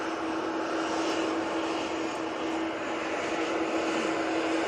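A Boeing 737-800 bound for Palma de Mallorca on the runway, its engines giving a steady, loud, unbroken roar with a faint high whine, alone with no talk.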